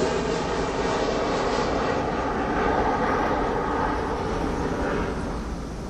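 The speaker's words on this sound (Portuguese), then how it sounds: "Toda hora passa um avião aqui também." An airplane passes overhead with a loud, sustained engine roar that swells and then slowly fades, the high end thinning out as it moves away.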